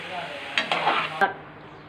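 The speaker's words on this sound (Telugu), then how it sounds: "అందుకని కొంచెం కొంచెం వేసుకొని ఫ్రై చేసేసుకున్నాం." Pappu chekodi snacks, a lentil-dough snack, fry in hot oil in a pan with a steady close sizzle, while a spoon stirs and scrapes against the pan in a few sharper strokes.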